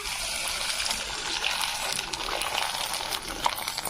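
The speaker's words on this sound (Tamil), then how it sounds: "எண்ணெய் நல்லா காஞ்சிருச்சு இப்போ வத்தல் போட்டு எடுக்கலாம்" Sago crisps dropped into hot oil, a dense continuous hiss and crackle of frying, close and fairly loud, steady for the whole stretch with no talk.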